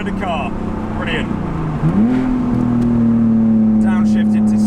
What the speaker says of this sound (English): Downshift into second.